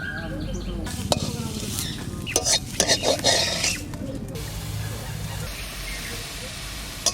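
Leafy greens sizzle as they fry in a pan, with a spatula scraping and stirring, a few sharp metallic scrapes, and faint voices in the background.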